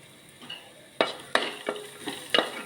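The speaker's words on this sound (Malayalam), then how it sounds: "ഇനി നമുക്ക് അതിലേക്ക് തേങ്ങ ഇട്ട് കൊടുക്കാം കരിയാതെ നോക്കണേ" Grated coconut frying in coconut oil with crushed chilli, a soft sizzle broken by several sharp stirring scrapes in the pan, close and alone without talk.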